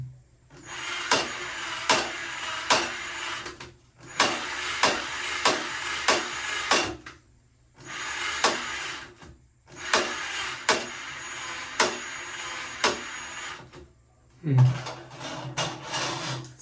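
A Ryobi 18V drain auger reaches deep into a shower drain, running in several short bursts of rattling, knocking cable clatter separated by pauses, up close, with a voice speaking in between.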